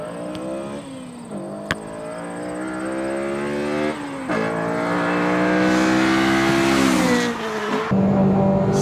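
A Honda Civic Type R FD2 accelerates hard through the gears, its engine note climbing loudly and closely in long rising sweeps broken by quick dips at each shift, with no one talking.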